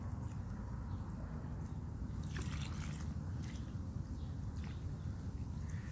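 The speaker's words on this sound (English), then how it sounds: "I'm gonna give it a good old water." Water trickles and splashes steadily onto a potted plant over a low background rumble, with a brief brighter gush midway, sounding close by.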